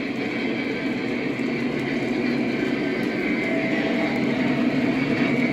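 A model freight train runs on a layout, giving a steady, continuous rumble and hum that holds at an even level throughout, with no voices.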